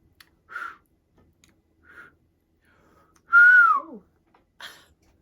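Short, breathy half-whistles break the quiet, with one longer whistle that slides downward in pitch. Each one is faint and brief.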